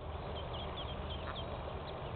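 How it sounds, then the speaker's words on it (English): Little baby ducks give high, faint peeping quacks, scattered in short chirps over a steady outdoor background hiss. "You see those little baby ducks?"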